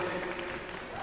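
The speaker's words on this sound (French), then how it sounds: "On peut les applaudir bien fort" Audience at Japan Expo clapping for two players from the crowd after a 1-2-Switch challenge, a steady wash of applause across the whole moment with a voice speaking over it.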